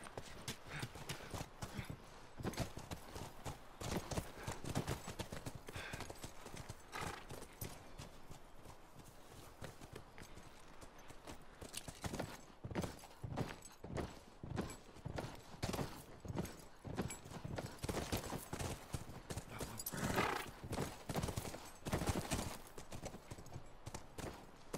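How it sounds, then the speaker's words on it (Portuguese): Horse hooves clip-clopping in The Last of Us video game, a steady rhythmic run of hoof strikes lasting throughout, fairly close and unbroken by talk. "De volta aos cavalos."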